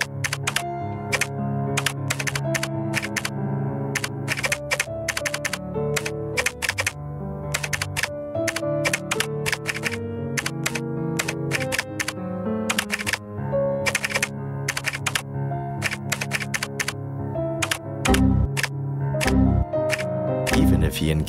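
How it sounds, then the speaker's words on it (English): Rapid keyboard typing in the video game Another Adventure, with dense bursts of clicking keys over a steady musical backing, continuing for the whole stretch and ending in a few heavier thunks. "All he needs to do is type O's and 1s in the right order."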